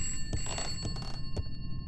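A phone rings inside a horror video game house in short repeated electronic bursts over a low background drone, clear but moderately quiet.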